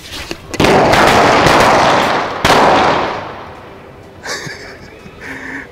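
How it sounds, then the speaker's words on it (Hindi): Loose Diwali firecrackers spread apart on the ground burst together in a loud, dense crackling barrage that lasts a couple of seconds, then fades into a few scattered late pops and faint hissing. "बेशक लड़ी नहीं है पर ट्रक के अगर जला दे तो काफी सारे एक साथ फट रहे हैं"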